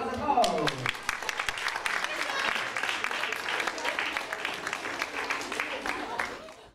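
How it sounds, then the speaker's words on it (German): Applause from an audience at a German education award event as a primary school from Reinickendorf is announced, a steady wash of clapping that starts right after a brief spoken announcement and fades slightly toward the end. "Applaus, Applaus, Applaus!"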